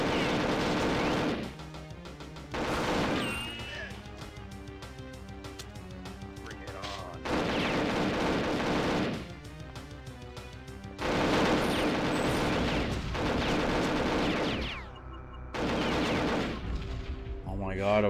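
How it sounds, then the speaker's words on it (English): Gunfire bursts from the Nintendo 64 game Perfect Dark, with loud repeated shots and crashes in several dense clusters over game music and effects, broken by short quieter gaps. "Shooting him."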